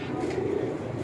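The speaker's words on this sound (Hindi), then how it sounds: "छोटे से बंदम का कबूतर है माशाल्लाह जी दोस्तों।" A small bantam-sized pigeon coos softly up close, a low continuous murmuring call filling the short moment with no talking.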